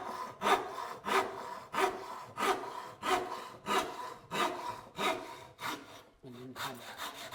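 A Japanese pull saw cuts through wood in even, regular strokes, about eleven rasping pulls at a steady rhythm, close and clear with no talking.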